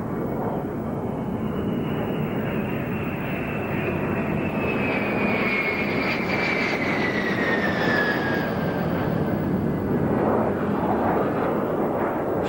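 A B-2 stealth bomber in flight, a loud continuous jet roar with a slowly falling whine that swells and fades over several seconds, heard alone.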